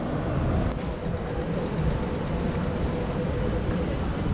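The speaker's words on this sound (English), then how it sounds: "and then you got this tram" A Melbourne tram rolls past on a city street as a steady, close rumble of wheels and motor. A faint voice can be heard underneath.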